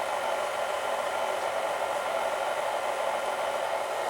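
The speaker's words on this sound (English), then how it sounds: "I use my stand mixer on the second setting to do the kneading process." A stand mixer runs on its second speed setting while kneading homemade pizza dough, a steady, even whirring drone that stays loud and unchanging throughout with no talk.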